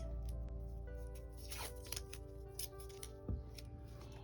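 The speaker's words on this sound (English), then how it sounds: "I'm going to tape everything into place" Tape is pulled and pressed down over macrame keychain cords, giving short crackling strips and ripping rasps in a quiet room, with a faint steady hum underneath and no talking.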